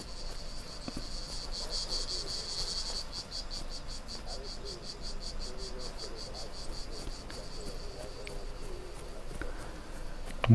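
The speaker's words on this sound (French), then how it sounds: "on entend les cigales" Cicadas buzz steadily in the summer countryside of the video game Just Cause 3, a pulsing high-pitched drone that beats rapidly throughout over faint ambient background.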